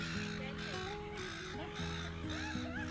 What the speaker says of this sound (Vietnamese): Thấy những chú chim hải âu không?